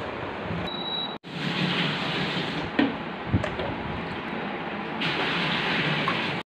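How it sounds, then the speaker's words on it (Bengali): A water cooler's pump motor lifts water, giving a loud, steady rushing and gushing flow that fills the whole stretch close up, broken by one brief cut and a few small knocks, with no talking. "পাম্প মোটর যেটা জলটাকে তুলছে এটা পাম্প মোটর"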